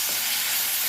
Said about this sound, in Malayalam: അതും ഇച്ചിരി കരിയാപ്പില ഇട്ടിട്ട് ഒന്ന് വഴറ്റി കൊടുക്കുക